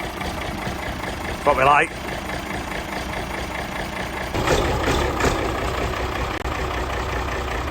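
A David Brown tractor's diesel engine catches after a brief cranking sound and settles into a steady, close idle, with someone speaking briefly near the start.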